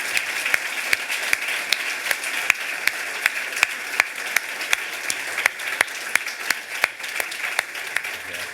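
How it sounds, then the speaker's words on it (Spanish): An audience at a Spanish-language talk on Greenland and geopolitics applauds two speakers, steady clapping with some sharper individual claps standing out, continuing evenly throughout at moderate loudness. "Esto merece un aplauso para los dos"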